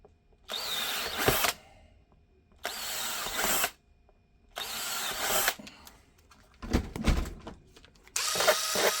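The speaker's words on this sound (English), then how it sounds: "So we'll go ahead and drill the center of these." A handheld power drill bores through holster leather in a workshop, four separate bursts of whirring a second or so long, with quiet gaps and small handling noises between them.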